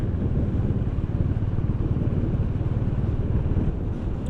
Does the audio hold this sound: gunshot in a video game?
no